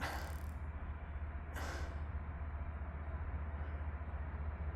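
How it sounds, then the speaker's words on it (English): A long freight train rumbles steadily at a distance on a slow approach to a rail yard, low and continuous, with a couple of brief hissing bursts near the start. "so he's coming in on a slow approach to the yard, so it's going to be a nice long train"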